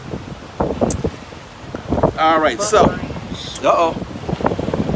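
Strong coastal wind buffets the microphone outdoors in Key West on election day, producing loud, gusty low rumbling and crackling that swells and fades. People talk over it.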